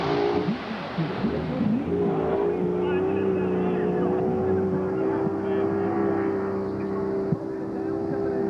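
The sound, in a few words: racing speedboat roaring around a corner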